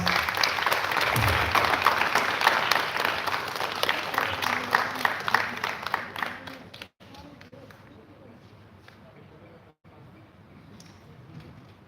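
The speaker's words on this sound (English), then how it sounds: "Please, everyone, a round of applause." Audience applause at the final day of a residential space camp, loud and sustained at first, then fading to scattered claps and quiet room murmur.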